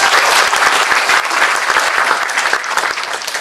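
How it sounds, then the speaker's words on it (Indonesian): A seated audience at a university lecture event bursts into loud, dense applause, many hands clapping together close and steady throughout, fading slightly toward the end. "Tepuk tangan untuk beliau."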